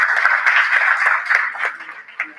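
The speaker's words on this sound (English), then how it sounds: "a huge round of applause to each and everyone who's contributed to today's success" A conference audience applauds in a dense, steady wash of clapping that runs the whole moment with small bursts of louder claps, fairly close and even in level.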